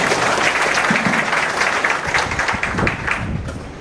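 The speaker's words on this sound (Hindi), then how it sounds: "जोरदार तालियों से स्वागत" Steady, dense applause from a crowd at a teachers' appointment-letter ceremony, loud and sustained throughout, with no voices rising above it.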